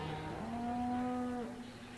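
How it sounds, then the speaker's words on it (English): Cows lowing at a livestock market in Farming Simulator 17, one long sustained moo with a steady tone, fairly close and alone over a soft ambient background with no talking. "I see cows."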